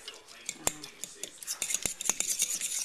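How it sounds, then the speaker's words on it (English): A utensil stirs cheese into a cauliflower pizza mixture in a bowl, giving irregular light clicks and scrapes, with a few sharper taps spread across the few seconds. "Well, we're just going to stir that up."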